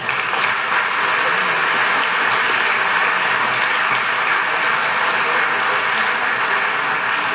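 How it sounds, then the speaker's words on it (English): Steady, dense audience applause fills a 9th grade patch ceremony at MBA, loud and sustained throughout with no pauses and barely any voices. "give them a round of applause"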